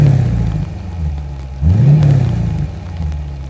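A new Lamborghini turbocharged V8 revs twice, a low engine note climbing sharply in pitch on each blip and falling back, the second rev louder and fuller, with no talk.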